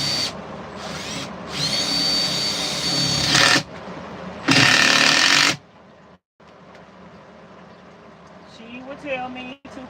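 A power drill drives screws into a van build, with two loud whirring bursts each lasting a second or more, then quieter handling noises and a faint voice.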